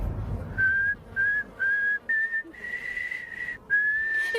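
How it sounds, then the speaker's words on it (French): Nose whistling of the tune Au clair de la lune, a thin steady pitched tone in separate held notes with short breaths between them, close and clear with no talking. "Quand il respire, il arrive à siffler au clair de la lune avec son nez"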